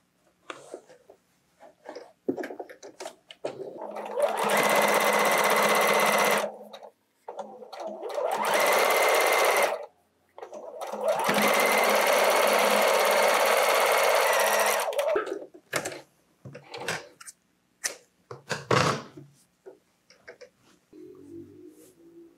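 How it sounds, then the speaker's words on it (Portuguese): A sewing machine stitches a fabric face mask in three steady whirring runs of several seconds each, close and loud, with short pauses, handling noises between runs and a little quiet talk. "Agora vamos passar a costurinha rente aqui embaixo."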